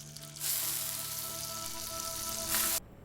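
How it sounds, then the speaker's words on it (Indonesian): A cheeseburger patty frying on a hot surface sizzles loudly and steadily, flaring briefly brighter near the end before cutting off abruptly. "Chef Slowik pun langsung turun tangan memasak cheeseburger dengan terlihat senang dan terharu"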